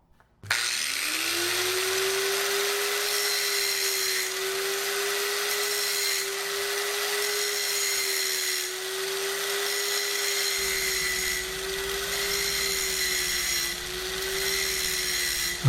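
An angle grinder rough-grinds a steel razor blank, starting abruptly and then holding a loud, sustained high whine with a steady tone for the rest of the clip, without any talking.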